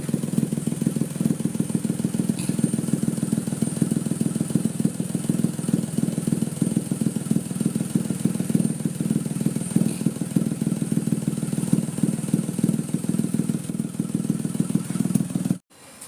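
A small Kancil car engine idling steadily and loudly for the whole stretch, a constant rumbling drone that cuts off abruptly at the end.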